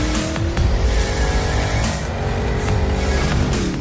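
A 2021 Porsche Cayenne GTS drives along, giving a steady, fairly loud engine and road roar that holds without a break throughout.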